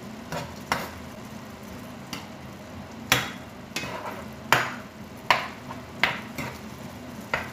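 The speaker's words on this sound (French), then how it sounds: "On va mélanger tout ça." Chicken and merguez one-pot dish being stirred in a pan, a series of distinct scraping knocks of a spoon against the pan at irregular intervals over a faint background sizzle.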